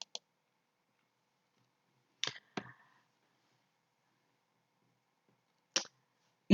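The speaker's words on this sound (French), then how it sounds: "on clique ici sur le bouton Ajouter" Several sharp, isolated mouse clicks come from clicking the Add button in a WordPress admin page, close and crisp, spaced apart by long stretches of silence.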